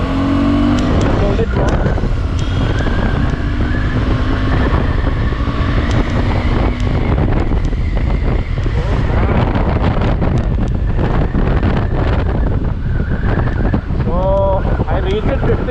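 A KTM 390 Adventure motorcycle accelerates on an open road, its engine roaring and rising through the gears under heavy wind buffeting, with a rider talking over it.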